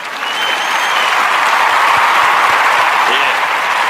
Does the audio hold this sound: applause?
yes